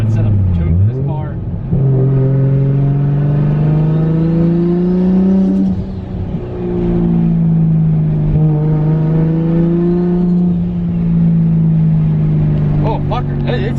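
A Toyota Supra engine on its first start-up, running loud with revving and a strong steady tone that rises and falls over several surges, close by and dominating throughout with no talk.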